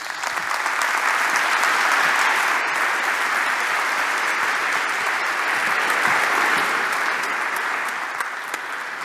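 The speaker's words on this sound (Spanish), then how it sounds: "Un fuerte aplauso para él." Sustained audience applause at a digital healthcare management conference, a dense, even roar of clapping from a large crowd lasting several seconds before fading slightly at the end.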